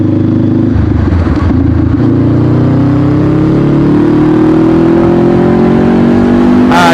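A 2020 Honda CBR500R motorcycle engine with a slipper clutch, loud and close, revving and shifting pitch as it downshifts, with steady wind and road roar throughout.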